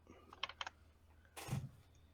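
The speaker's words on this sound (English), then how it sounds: "I'm going to start typing up damage." Someone types on a computer keyboard during a tabletop game session, a quick run of sharp clicks followed by a louder clattering burst, close and fairly quiet.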